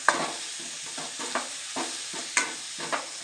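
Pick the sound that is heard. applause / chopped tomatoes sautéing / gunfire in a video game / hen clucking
chopped tomatoes sautéing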